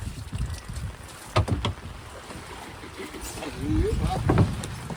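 A small fishing boat rocks on choppy water with low splashing and knocking, wind buffeting the microphone, and voices talking over it.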